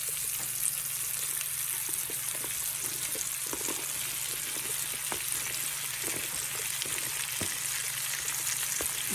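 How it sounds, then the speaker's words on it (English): Sliced yellow, green, red and orange bell peppers sauté in their own juices in a pan, a steady crackling sizzle dotted with small pops and occasional stirring, close and moderately quiet. "we're gonna saute these in the juices of the peppers until they get nice and soft"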